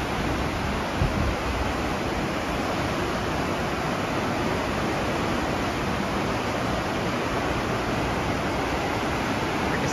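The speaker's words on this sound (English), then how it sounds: "Sit here all day watching this and listening to the sounds of the ocean." Steady ocean wash heard from the stern of the Ovation of the Seas cruise ship en route to Alaska in fog, a constant broadband rush of surf and wake with wind, loud and unbroken throughout.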